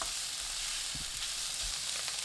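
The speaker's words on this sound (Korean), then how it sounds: "달군 팬에 식용유 1큰술, 햄, 양파 넣고 센 불로 볶습니다." Ham and onion stir-frying on high heat in a preheated pan with a tablespoon of cooking oil: a steady, close sizzle with soft stirring knocks breaking through now and then.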